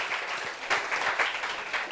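Applause, probably from a studio or show audience, a dense patter of clapping rising a little partway through and continuing steadily at moderate level without talk.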